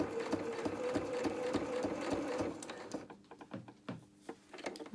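A sewing machine stitches around a felt flower petal, its rapid needle rhythm running steadily for about three seconds, then breaking into short stop-start bursts as the fabric is turned.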